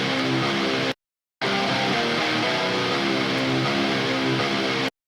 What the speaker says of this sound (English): And then I basically have some pitch bends, which sounds like this.